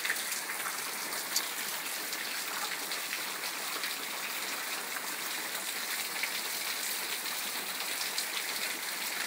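Rain falls outside in a steady, even hiss that holds at a constant level from start to finish, with no voices over it.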